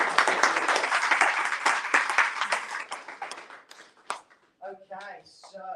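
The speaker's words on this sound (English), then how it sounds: "can we give David a round of applause?" Audience applause at an entrepreneurship event, a burst of clapping that is loud at first and then thins out over several seconds, with a voice beginning to speak near the end.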